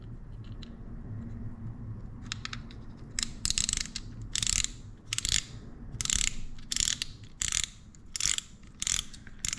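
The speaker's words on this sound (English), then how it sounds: "These Sienna drags, though, they sound pretty sick, man." Drag on a Shimano Sienna 2500HG spinning fishing reel clicks in quick ratcheting bursts, each a sharp run of close, crisp clicks separated by short pauses.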